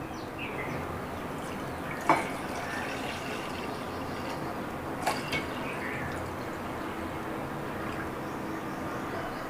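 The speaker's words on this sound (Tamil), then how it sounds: "இப்போ இதில் தேவையான அளவு தண்ணி சேர்த்துக்கலாம்." Water is added to freshly squeezed lemon juice for nannari sharbat, a soft, steady pouring fill with a couple of small clinks or drips, close by and unaccompanied by speech.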